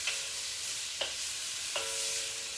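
Shrimp stir-fry in a pan with a constant soft sizzle, broken by three clinks as a utensil moves them around. The sound is close and fairly quiet, with no voices.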